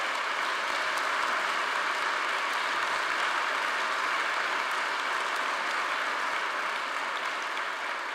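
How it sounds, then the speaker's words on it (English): Steady, even applause from an audience at a university athletics awards ceremony, a broad wash of many hands clapping continuously at moderate distance with no voices standing out. "I'd like to give you one more round of applause for all the good work"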